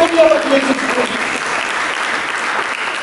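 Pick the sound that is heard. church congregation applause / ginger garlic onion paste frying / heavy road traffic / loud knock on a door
church congregation applause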